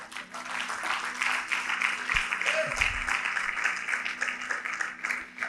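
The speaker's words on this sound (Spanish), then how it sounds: "Dele un aplauso al Señor." A church congregation claps together during a Spanish-language Bible study service, a steady wash of applause filling the room with a brief low thump partway through.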